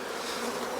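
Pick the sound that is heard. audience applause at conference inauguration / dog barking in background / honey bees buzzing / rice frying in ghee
honey bees buzzing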